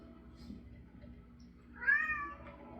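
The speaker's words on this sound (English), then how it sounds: "Oh, my kitty cat." A cat gives a single short meow, fairly near and clear, rising out of a quiet background with a low steady hum.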